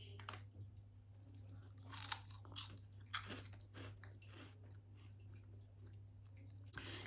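Greek cheese and tomato chips are bitten and chewed close up: sharp, crisp crunches come in irregular bursts, followed by softer chewing.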